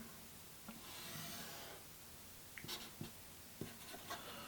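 A triangle being drawn on a board gives faint, scratchy writing strokes in a quiet room: one longer rubbing stroke, then several short taps and scrapes.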